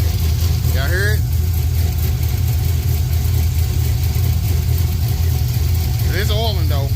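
A truck engine with newly upgraded 706 cylinder heads idles in a steady low rumble close by, while a person speaks over it at the start and end.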